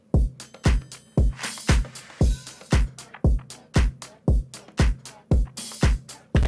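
A dance pop drum loop without hi-hat, its punchy kicks and snappy hits landing in a steady, even four-on-the-floor pulse, loud and up front with no voices.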